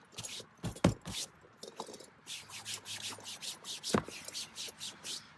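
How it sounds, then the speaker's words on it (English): A dry cloth gently rubbing dust off a car seat: soft, close swishing strokes in a steady back-and-forth rhythm, with a few louder thumps of handling in between. "So I'm just rubbing it just real gently"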